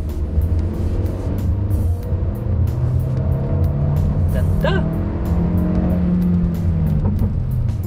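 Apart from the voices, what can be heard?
Hyundai Custin 1.5 liter turbo engine accelerating in sport mode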